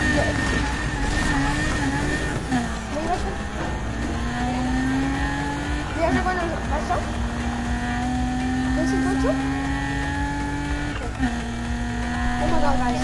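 Car engine revving in the Need for Speed racing game: a steady engine whine climbs in pitch through several gear shifts, dropping back and rising again, continuous under ongoing talk.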